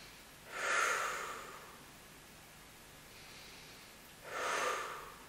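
Two slow, audible breaths during a standing Pilates exercise, a long airy exhale near the start and another near the end with quiet room hiss between, close and soft with no talking.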